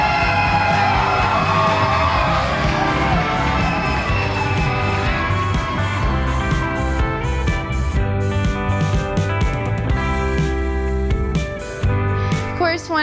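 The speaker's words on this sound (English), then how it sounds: "So when they come in here, I want you to scream." Wedding guests in a reception room yell and whoop together as the bride and groom enter, a loud, dense crowd roar that holds steady throughout.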